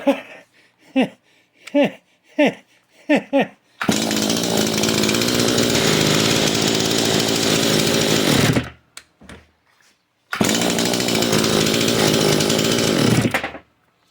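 A Farmertec MS 460 chainsaw restarts after a few short pull-cord tugs, then runs loud and close for about five seconds, cuts out, and roars again for a few more seconds.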